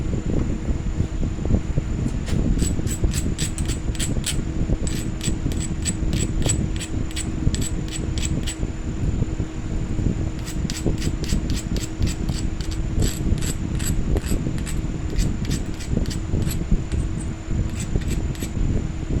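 A Dremel tool grinds glass tile with a steady, loud motor whine and a continuous gritty hum, punctuated by rapid rhythmic ticking bursts throughout, with no talk.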